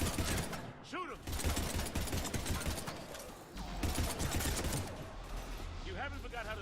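Bursts of rapid video game gunfire crackle in a combat scene, dense and sustained, with shouted voices and game effects layered over them.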